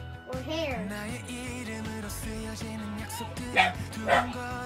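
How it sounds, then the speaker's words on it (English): A dog barks a couple of times, sharp yaps standing out over steady music playing in the background. "Sorry, my dog is annoying"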